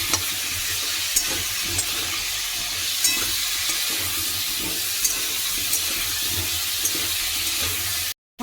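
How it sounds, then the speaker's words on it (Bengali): Potatoes fry in a pan on a gas stove, a steady broadband sizzle with occasional soft pops and stirring clicks, with no talking, cutting off abruptly just before the end. "এখন আলুটা ভেজে নিই"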